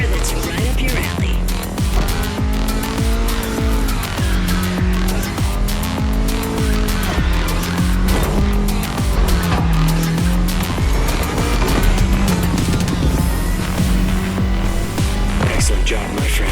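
Lightweight, naturally aspirated Toyota GR86 in The Crew Motorfest, loud engine revving up and down in repeated surges with squealing, skidding tires, dense and close throughout.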